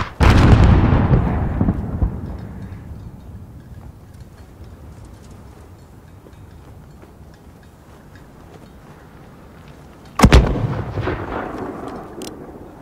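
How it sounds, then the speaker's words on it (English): Mortar and artillery fire in Call of Duty: Modern Warfare, a heavy boom at the start rumbling and decaying over a couple of seconds, then a second loud blast near the ten-second mark, with a low battlefield rumble in between. "There's still a mortar out there."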